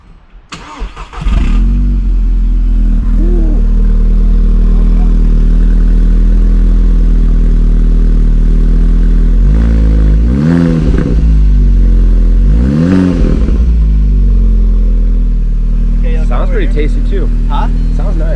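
A 2012 Volkswagen Golf R, bought wrecked and believed stock, cranks and fires, then settles into a steady, loud idle with a couple of brief revs rising over it.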